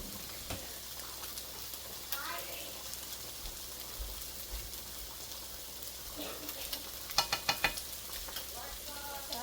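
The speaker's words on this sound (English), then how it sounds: "I'm going to give it a stir." Creamy chicken bacon ranch being stirred in a pan, a steady sizzle with scraping and soft wet stirring, and a few sharp clinks of utensil against the pan near the end.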